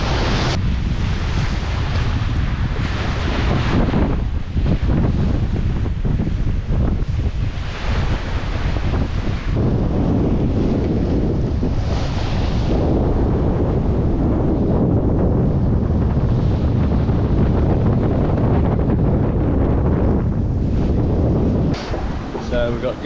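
Strong wind roars across the microphone aboard a sailing boat at sea off Guernsey, with sails full. The rush is loud and constant, waves wash around the hull, and someone speaks at times.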